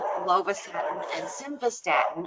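A herding dog barks and yips repeatedly in the background of an indoor room, its bursts mixed under a person speaking steadily.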